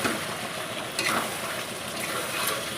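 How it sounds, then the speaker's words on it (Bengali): Chicken sautéing in a pan with a blended coriander and green chilli paste makes a dense, continuous sizzle with occasional scraping stirs, close and steady, no talking. "এটা দিয়ে আর একটু কষাবো পরে জল দেব এটা দিয়ে একটু ভালো করে কষিয়ে নিই"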